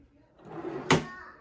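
A wooden drawer on a computer desk slides shut with a single firm close thump, preceded by a brief rustle of movement, heard up close in a quiet room.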